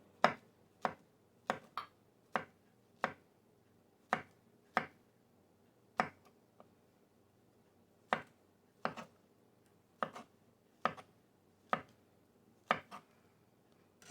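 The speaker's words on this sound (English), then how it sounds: "So now I'm going to cut up my banana." Knife cutting a banana into slices on a board, a series of crisp, close taps at an uneven rhythm, alone and with no talk.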